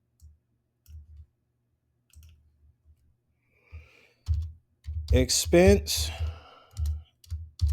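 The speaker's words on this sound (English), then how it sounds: "No, I'm not using home row keys." Hunt-and-peck typing on a computer keyboard, not touch-typed, gives sparse, uneven keystrokes near the mic, with a faster burst toward the end and a man's brief speech in the middle.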